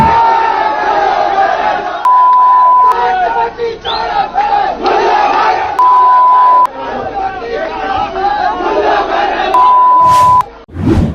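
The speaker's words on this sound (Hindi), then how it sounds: "इसमें लगातार जो बीप आप सुन रहे हैं ना, ये गालियां दी जा रही हैं" Repeated long censorship beeps cut over a loud, roaring crowd chanting abuse, with three clear bleeps landing at intervals among the shouting voices.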